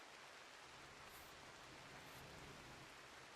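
Steady rain in the video game Rimworld, a dense even hiss that runs unbroken and fairly loud throughout, with no voices over it.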